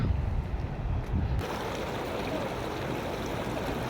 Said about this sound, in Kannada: ತುಂಬ ದೊಡ್ಡ